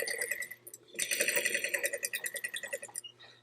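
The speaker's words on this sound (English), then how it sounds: "I'm going to sew right in that crease line to make our seam." A sewing machine stitches a fabric seam along an ironed crease, with pins and glue basting holding the layers; after a brief pause it runs in a steady, rapid rhythmic whir at close range.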